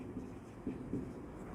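Soft scratchy strokes of writing on a board during an accounting lesson, a few brief marks close by over a quiet room tone, no talking.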